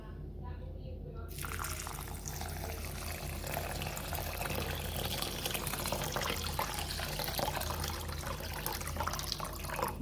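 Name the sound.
water poured into a bowl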